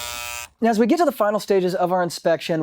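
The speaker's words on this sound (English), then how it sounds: "that's why the alarm goes off and it sounds like this when we raise it up." A high-water alarm on an aerobic septic system pump tank buzzes as a steady tone, which cuts off within about half a second and is followed by close, loud talk from a man.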